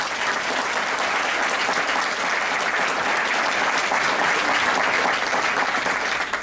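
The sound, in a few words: audience applause at heritage awards ceremony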